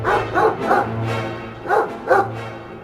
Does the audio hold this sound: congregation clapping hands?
no